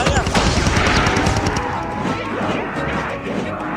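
Rapid, dense gunfire from a Call of Duty zombie match crackles continuously with bursts and impacts, while players talk over the steady din.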